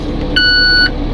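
A single steady electronic beep from heavy equipment sounds for about half a second, loud and close, over a low engine rumble.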